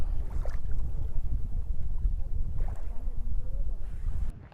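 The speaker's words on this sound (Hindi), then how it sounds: "यहाँ पे जो इसकी जो लहरों की आवाज़ आ रही है ना" Waves lapping at the shore of Pangong Lake in Ladakh, a continuous rumbling wash mixed with gusty wind buffeting the microphone, fairly close and loud throughout.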